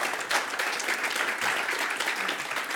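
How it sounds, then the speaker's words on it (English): Audience at a conference livestream applauds as panelists come up: a full, continuous round of clapping from a crowd, even and sustained throughout, with no speech over it. "can we give them a round of applause when they come up"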